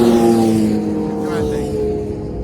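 Road traffic beside a beach near Bean Hollow State Beach, with a car passing close by and its steady engine hum and tire roar fading slightly as it goes, loud and alone without talk.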